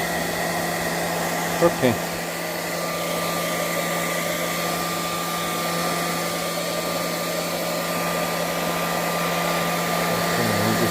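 A heat tool blows a steady, even roar of hot air with a constant motor hum while drying an alcohol ink painting, with a brief knock near the start and a short spoken word.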